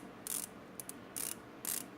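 Bezel of a Casio diver watch, MTD-1054 or MDV-106, turned in short bursts of quiet, close ratcheting clicks, four separate runs with brief gaps between.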